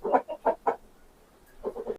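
An eastern-breed rooster clucks close by in two short bursts of quick, throaty clucks separated by a brief pause.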